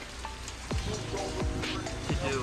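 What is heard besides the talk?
rain falling outside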